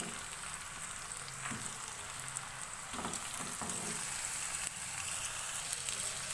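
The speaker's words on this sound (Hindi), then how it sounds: "चिकन को 1 से 2 मिनट फ्राई करेंगे प्याज के साथ" Chicken and onions fry over a high flame in a pan, a steady close sizzle with occasional stirring scrapes and pops, no voices.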